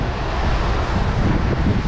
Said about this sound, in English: Now it's just wet, windy and cold and miserable.